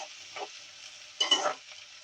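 A spoon stirs a spiced lentil curry with green chillies, cinnamon bark, cardamom and goraka in a pan, giving two brief scraping, sizzling bursts, a small one early and a louder one later, over a faint steady hiss.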